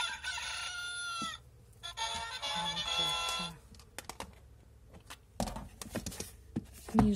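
A cardboard sound book's electronic rooster crow plays loudly, followed by a few clucks, then clicks and button presses from handling.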